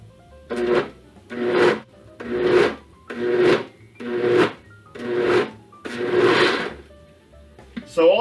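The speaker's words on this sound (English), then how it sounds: "I don't have a food processor, but I do have a fancy blender" A blender pulses a coarse mixture in seven short, evenly spaced bursts of loud whirring, each rising and cutting off, with a brief knock right at the end.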